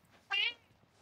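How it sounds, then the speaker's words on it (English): A cat gives a single short meow, close and clear, standing out briefly over quiet background noise during a gaming session. "this meow is my favorite sound right now"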